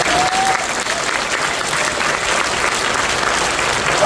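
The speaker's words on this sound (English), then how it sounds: "I appreciate the applause" An audience at a motivational speech breaks into loud, continuous applause, a dense wash of clapping that holds steady throughout with a few cheers mixed in.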